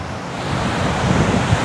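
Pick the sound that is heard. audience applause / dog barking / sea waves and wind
sea waves and wind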